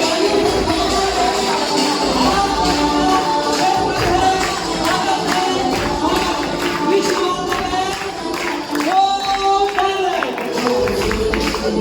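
A standing audience at a large motivational mega event in Pithora claps loudly with raised hands, dense continuous applause and crowd noise filling the whole stretch with no clear gaps.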